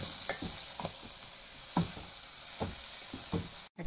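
Kanda bachali greens curry stirred in a pan, with soft irregular scraping strokes over a steady low sizzle of frying, close and fairly quiet.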